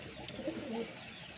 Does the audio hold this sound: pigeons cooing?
yes